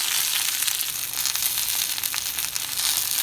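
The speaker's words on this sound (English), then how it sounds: "Sauteing on high heat, you can see some of the moisture is already starting to come out of them" Shishito peppers sauté in a pan over high heat, giving off a loud, steady crackling sizzle that fills the whole stretch without any voices.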